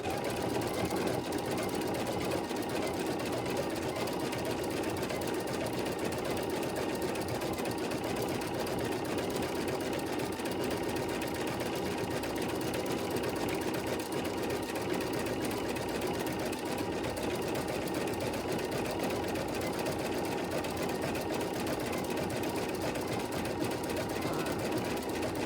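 A sewing or embroidery machine stitches an April Bunny orange peel quilt design, running in a fast, steady mechanical whir with a continuous rhythmic needle chatter for a long stretch, close and even, without talk.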